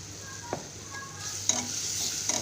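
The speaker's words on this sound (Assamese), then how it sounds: "এইখিনি লৰাই দি সম্পূৰ্ণ ভাজ খোৱালৈকে ভাজি আছোঁ" Spices with turmeric and cumin powder frying in a pan, a steady soft sizzle with a few sharp stirring scrapes, close and fairly quiet, no voices.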